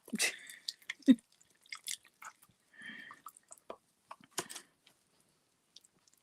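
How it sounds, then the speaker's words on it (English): Plaster compound being mixed with water by hand with a kit spatula, giving soft wet squishes and drips in short bursts, close and fairly quiet with pauses between. "we've got our water and we've got our plaster compound, and we're going to mix."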